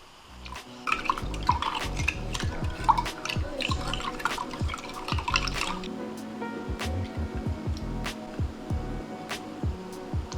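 Milk is poured and stirred into a slime mixture in a container, with close liquid trickling, dripping and light clinks of a utensil against the bowl, continuous and moderately quiet.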